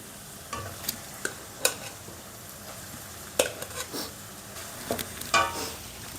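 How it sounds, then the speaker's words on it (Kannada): Hot cooked rice being stirred into carrot fry in a pan, soft frying sizzle under intermittent spatula scrapes and knocks against the pan, close and fairly quiet, no voices. "ಇದಕ್ಕೆ ಇವಾಗ ನಾನು ಬಿಸಿ ಅನ್ನನ ಹಾಕ್ಕೊಳ್ತಾ ಇದ್ದೀನಿ"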